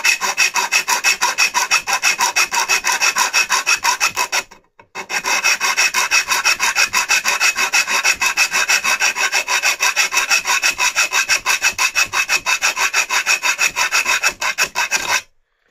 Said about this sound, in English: we're going to start filing the hole there